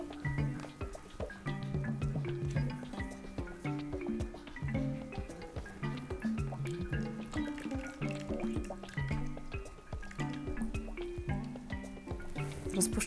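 Warm water pours over ice and trickles with dripping and splashing sounds, close up, continuing steadily throughout.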